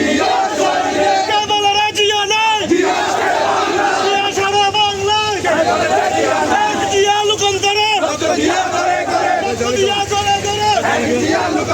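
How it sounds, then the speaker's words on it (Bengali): A large crowd at a BNP memorial tribute at a graveyard in Chattogram chants political slogans in loud, rhythmic unison, surging phrases repeating continuously over a dense roar of voices. "রুবেল স্লোগান দাও।"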